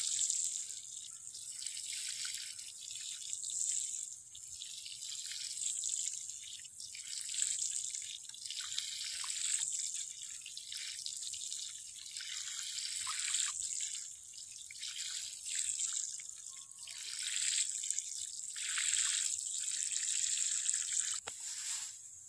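Water is poured steadily onto newly planted ivy gourd (kundru) cuttings, a continuous soft splashing and trickling with small drips that runs evenly for about twenty seconds with no voices.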